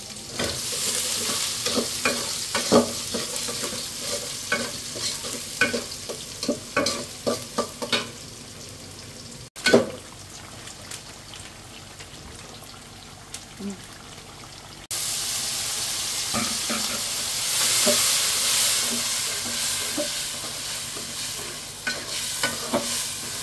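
Onion and five-spice hit hot oil and fry in a pan, a continuous loud sizzle with repeated scraping stirs close by, a brief clunk partway through, then a steadier hissing fry.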